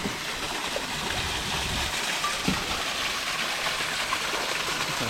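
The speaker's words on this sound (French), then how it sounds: "Alors là, il y a une cascade à l'intérieur." Waterfall inside the Verdon gorge at Baudinard, heard from a kayak as a steady broadband rush of falling water, moderately close and continuous with no voices over it.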